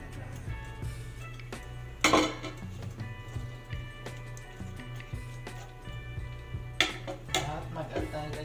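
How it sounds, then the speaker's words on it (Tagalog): Radish, okra and chili dropped into a pot of clam sinigang, with a couple of sharp clinks of utensil against the pot among softer kitchen clatter, close and fairly quiet. "ilagay na rin natin guys yung ating radish, itong ano din, okra, tsaka yung ating chili"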